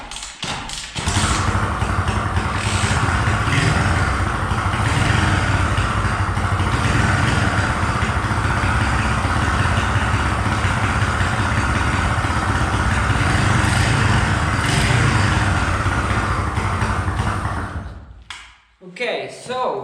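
A pit bike engine runs at a steady, loud idle close by after a carburetor swap, holding an even drone for about seventeen seconds before cutting out.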